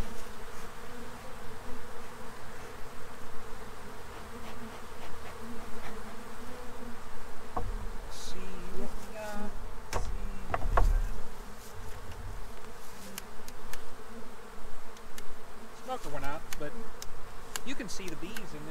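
Honey bees buzzing steadily at an open two-year-old hive during a spring inspection, a close continuous drone with individual bees passing near, occasional knocks and handling noises, no talk.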